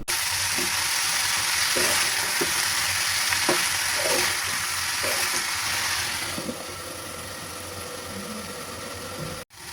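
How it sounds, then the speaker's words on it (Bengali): Bitter gourd fries in a pan over medium heat, giving a dense, steady sizzle with occasional soft stirring knocks. The sizzle eases slightly near the end before a brief clatter, close and without talk. "এরপরে সরা তুলে আমি একদম মিডিয়াম আঁচে করলাটাকে খুব ভালোভাবে ভেজে নেব।"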